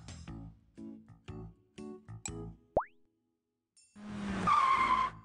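A cartoonish sound effect of a fancy sports car skidding, with a long screech after a short springy boing and some babbling talk at the start.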